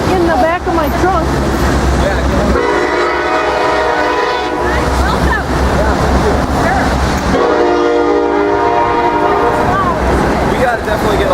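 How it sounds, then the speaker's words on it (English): A train passes close by a peace vigil in the Brainerd area, loud and continuous with long, blaring horn blasts repeating across the clip, rumbling wheels underneath and people's voices partly buried beneath it. "The train is going to compete with us."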